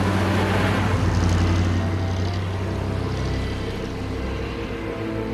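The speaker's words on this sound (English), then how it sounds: "It also makes the beautiful noise which only a V8 can produce." A Jensen car's Ford V8 engine runs steadily with a deep, rumbling low-end drone, fairly loud and close, holding an even tone throughout with no talk over it.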